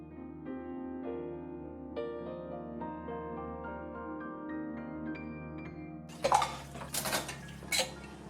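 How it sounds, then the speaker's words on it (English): Dishes and cutlery clatter sharply in a kitchen sink during washing up, a few quick clinks and knocks near the end after a stretch of sustained tonal ringing, with no talking. "And then I was doing some washing up, because once the sink is filling up with dishes"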